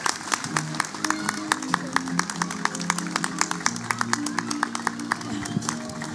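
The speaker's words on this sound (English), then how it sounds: "A big round of applause to Sabita ma'am" Scattered audience applause for a teacher at a school annual day cultural programme, with distinct sharp claps standing out over background music and murmuring voices.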